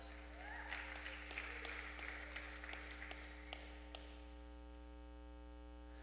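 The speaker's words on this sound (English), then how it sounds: "I could tell by the clap. There were like 5 people." Faint, sparse clapping from about five people in a church service, scattered claps fading out after a few seconds over a steady electrical hum.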